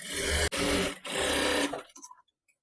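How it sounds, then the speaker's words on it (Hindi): Sewing machine running a line of stitches through fabric for an Angrakha Anarkali, a close rapid whirring hum in two bursts split by a brief pause, then stopping with a few faint clicks. "तो इस तरीके से फोल्ड करके आपको बाहर की तरफ सिलाई लगाना है 1/2 इंच की दूरी से।"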